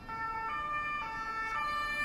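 An ambulance siren wails steadily in repeating rising and falling cycles, loud and continuous throughout with no voices over it.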